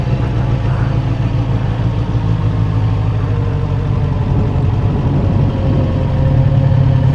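Suzuki GSX-F 600 four-cylinder motorcycle engine running steadily, a constant low, throaty drone heard close without talk.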